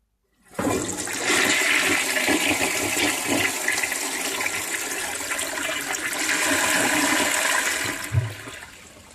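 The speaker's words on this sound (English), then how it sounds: "I think this is going to be my last final flush for a while" A 1958 Canadian Standard Cadet toilet flushing, a loud close rush of water starting abruptly and churning steadily for several seconds before a gurgling drop-off near the end.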